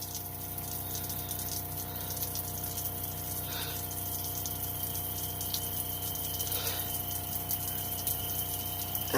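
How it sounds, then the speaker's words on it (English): An RV water system pump runs steadily while pushing pink antifreeze out of the hot water line during winterization, a constant low hum with gushing water flow and a few faint splashes, no voices. "we're going to wait for it to start pumping out some antifreeze."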